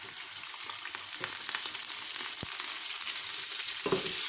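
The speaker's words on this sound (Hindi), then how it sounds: "और हम इसको लाइट गोल्डन फ्राई करेंगे" Chopped onions sizzle and fry in hot oil in a saucepan, a steady close crackling hiss with a couple of brief stirring knocks, no voices over it.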